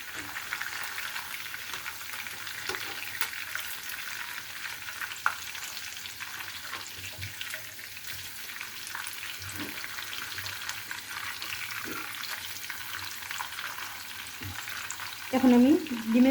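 Shashlik sizzles and fries steadily in a pan, flipped partway with brief scraping and clattering stir sounds, continuous and close with no talking.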